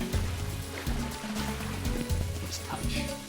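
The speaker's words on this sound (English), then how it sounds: "we can hop up and down these little baby waterfalls" Small video-game waterfalls in the Cave of Wonders in Kingdom Hearts give a steady splashing rush under looping background music, with bits of game effects over it.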